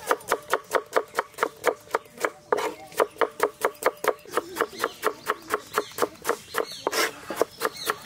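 Vegetables chopped on a cutting board, a fast, even series of sharp knife taps close by, around three per second, keeping a steady rhythm with only brief irregular pauses.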